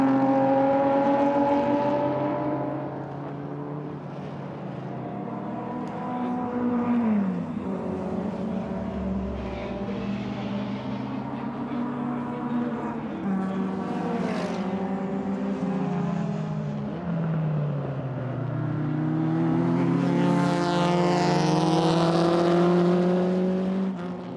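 Open-cockpit Maserati T61 race car swinging into the Mansell turn at the Hungaroring during a race, its engine a loud, sustained multi-harmonic whine rising and falling in pitch as it slows and accelerates, close throughout with no voices.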